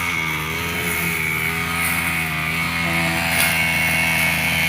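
A motorized grass cutter trims plants on a farm, its small engine droning steadily and fairly close with a constant buzzing whine and slight pitch shifts, running alone without talk.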